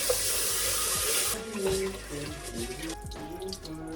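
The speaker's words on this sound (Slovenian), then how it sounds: "Spucamo riž. Še enkrat za dobro mero." Tap water runs and splashes while rice is rinsed in a kitchen for Japanese onigiri, a steady gush that shifts to sloshing and stirring of grains and water.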